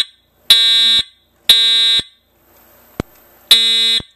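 An Edwards EST 757-8A-T Integrity fire alarm horn sounds in three loud, steady half-second blasts at one-second spacing, with a single sharp click between the second and third blasts.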